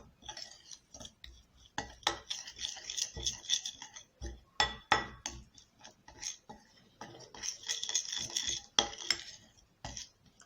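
A lemon juice paste being stirred and scraped in a bowl, giving irregular clinks and scrapes of a utensil against the dish at close range, with brief quiet gaps between bursts of mixing.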